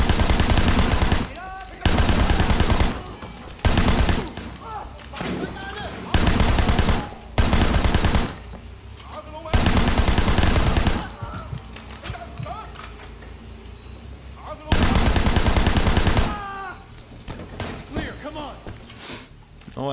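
Bursts of rapid automatic gunfire from a police shootout in Sleeping Dogs arrive in loud, sharp volleys lasting one to two seconds each, separated by quieter gaps of clatter and ambient game noise.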